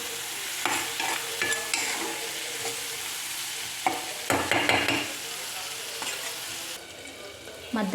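Onions frying in a pan with a little salt for an egg curry, stirred with scraping utensil strokes in bursts over a steady sizzle, close and fairly loud.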